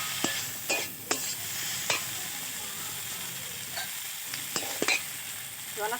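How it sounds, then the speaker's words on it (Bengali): Spice mix being stirred into a vegetarian radish curry in a pan, a steady close sizzle of frying broken by repeated sharp scrapes and taps of the spoon, with no talking. "তো মশলাটা দেওয়ার পর ভালো করে একটু মিশিয়ে নেওয়া হচ্ছে।"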